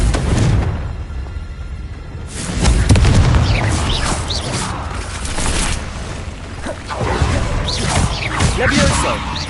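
Confringo blasting spell explosions in Hogwarts Legacy: heavy booming bursts with whooshing rushes and layered game effects, loud and dense over a rumbling low end, with some voice mixed in.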